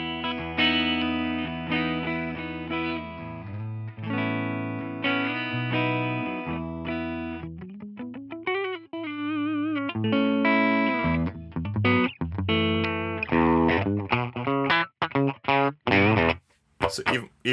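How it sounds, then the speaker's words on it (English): A Les Paul electric guitar played through a Line 6 POD Express on a PRS-style clean amp setting: sustained chords give way to quicker single-note runs and bends, steady and close, alone without talk. "this is a pure amp, this is a PRS style clean amp"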